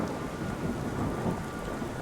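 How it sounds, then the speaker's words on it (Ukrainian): Steady rain and a low thunder rumble fill a horror video game set at Kraven Manor, a dense continuous wash of noise with no voices. "Вау, дощ паде."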